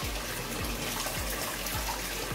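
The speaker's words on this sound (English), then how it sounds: "So I have to drain this dirty water out." Dirty soaking water from fermented cassava drains out in a steady close gush, with faint repeated low knocks or sloshes at regular intervals and no talking.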